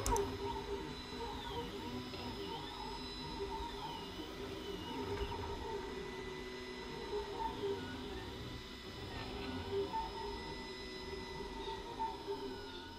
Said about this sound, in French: Et l'imprimante en elle-même, c'est vrai qu'elle n'est pas si bruyante que ça.